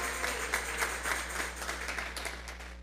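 A church congregation at a Sunday service clapping steadily together as an offering of applause to God, a dense, continuous patter of many hands over a low hum, with no voices.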